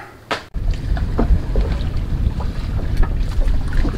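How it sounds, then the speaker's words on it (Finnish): A private boat motors across the sea off Bohol in the Philippines, its engine a constant loud low rumble mixed with rushing wind buffeting the microphone. "Nyt ollaan päästy meidän veneeseen"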